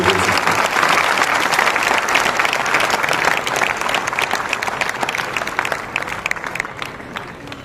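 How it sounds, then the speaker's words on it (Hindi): A large audience in an auditorium breaks into loud, dense applause. It holds steady and full for several seconds, then thins slightly toward the end. "आपकी तालियों की आवाज उसकी गूंज आनी चाहिए"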